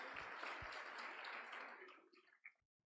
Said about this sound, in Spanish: Démosle un aplauso a nuestro Dios.